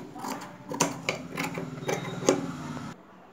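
A sewing machine stitches cloth for a butta-hand sleeve, sounding as soft, uneven bursts of quick mechanical ticking at low volume that fall silent near the end.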